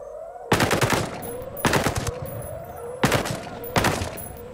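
Four sharp bursts of machine gun fire in the tactical shooter Breakpoint, each a rapid rattling string of shots roughly a second apart, loud and close, over a low ambient hum.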